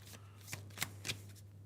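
A deck of Warhammer 40k mission cards shuffled by hand at a tabletop game, giving a few quick, soft riffling bursts, faint and close, with no talking.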